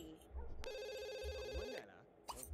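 A telephone ringing in The Sims 2, a steady electronic trill heard in one long burst, faint and mixed with game sounds and someone speaking.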